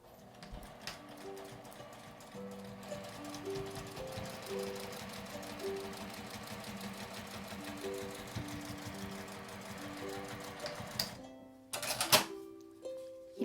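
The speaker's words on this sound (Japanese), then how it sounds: "挟んで1センチ縫います。" A sewing machine stitches a 1 cm seam through fabric, a rapid, even mechanical rattle running steadily for several seconds before stopping, followed by a few clicks and handling noises.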